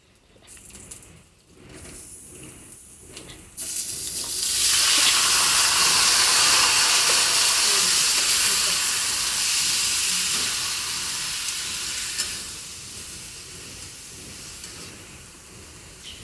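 Fresh, well-washed chicken pieces dropped into a hot pan of sautéed masala, breaking into a loud, steady sizzle and hiss that swells after a quiet start and slowly eases, with no talking over it.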